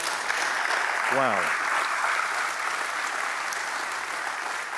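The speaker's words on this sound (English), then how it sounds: "We can clap for that, right?" Conference audience clapping at a pastors' gathering, a steady wash of applause filling the room for several seconds, with a short spoken exclamation near the start.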